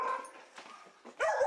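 Dogs at an animal shelter bark, yip and whimper in short bursts, close and fairly loud, with a sharp bark near the end.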